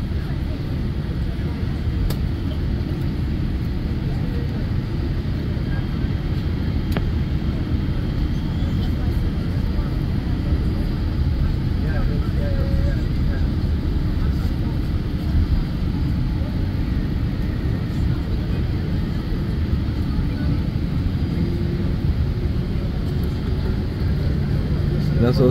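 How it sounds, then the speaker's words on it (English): Airliner taxiing at JFK Airport toward the runway, a steady low engine rumble and cabin drone heard from inside, continuous and even throughout with no speech. "We have started our taxiing process. We're about to hit the runway"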